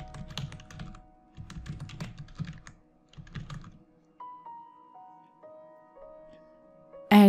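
A name being typed on a computer keyboard, fast bursts of clicking keystrokes in three quick runs separated by short pauses, followed by quiet electronic tones.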